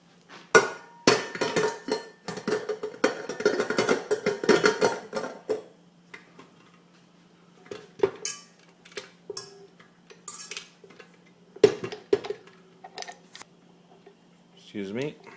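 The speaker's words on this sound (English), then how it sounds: "Put a whisk on it" Metal whisk attachment being fitted onto a stand mixer, with a burst of clattering metallic knocks and clinks at the start, then sparse clicks over a low steady hum, with a voice heard in places.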